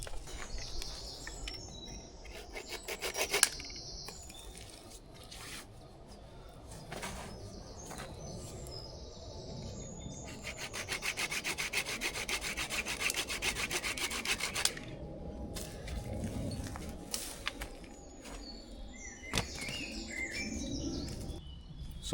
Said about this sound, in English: I may as well cut this piece of hawthorn and try another hardwood